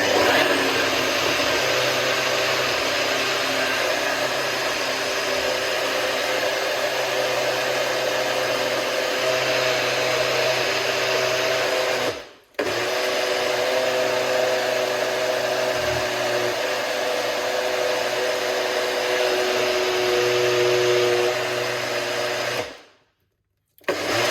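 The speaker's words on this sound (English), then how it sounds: "All right, let's blend." A blender making a blueberry smoothie runs loud and steady for a long stretch, briefly cutting out once before resuming, then stopping near the end.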